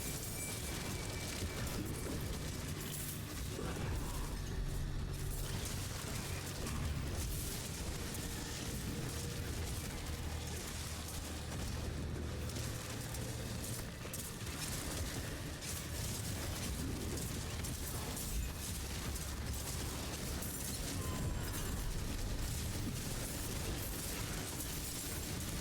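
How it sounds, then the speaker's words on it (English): Dense, continuous rumbling bursts and booms from bone mage spell effects in Diablo, layered with mechanical clatter at a steady, loud level with no clear gaps. "Explosion! Explosion!"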